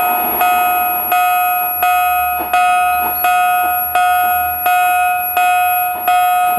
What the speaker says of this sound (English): Now when we pull away, a bell will ring at slow speeds.